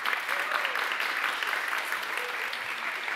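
Audience applause for a student at a live presentation, a dense, even wash of clapping hands that holds steady for several seconds with no talking over it.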